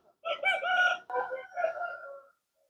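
A fighting-cock rooster crows loudly and close on a gamecock farm, one full cock-a-doodle-doo with a broken, drawn-out ending, then silence.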